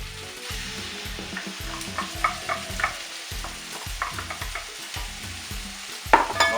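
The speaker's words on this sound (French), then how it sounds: "maintenant je vais pouvoir incorporer mes tomates" Blended tomatoes are stirred into a sizzling beef curry with carrots and potatoes, with a spoon scraping the pot in quick repeated strokes over a soft frying crackle, close up and without speech.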